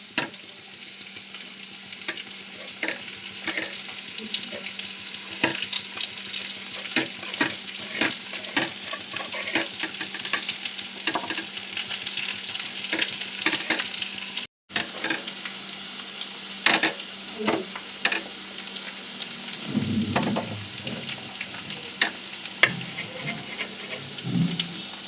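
Potatoes frying in a hot pan while being stirred, a steady sizzle broken by repeated scraping and clacking of the spatula, close up, with a short gap midway and no talk.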